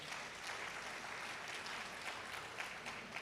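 Audience at an anniversary symposium applauding its panel moderators, a steady, dense wash of clapping from a seated crowd that holds evenly throughout without voices on top.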